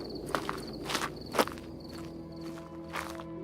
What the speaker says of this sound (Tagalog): palakas ng palakas ang tunog ng yabag sa likod namin